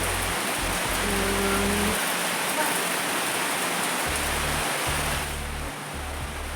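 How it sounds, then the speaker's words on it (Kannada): Heavy rain hisses steadily and loudly, a dense wash of drops with a low intermittent hum underneath. "ಮಳೆ ಕೂಡ ಜೋರು ಬರ್ತಾನೆ ಉಂಟು"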